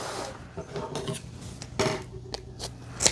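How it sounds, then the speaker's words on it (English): Scissors snip and rasp through tangled hair on a Shark IQ robot vacuum's brush roller, with a few sharp clicks and scraping sounds, close up and moderately quiet. "All right, we've got to cut this hair off of here."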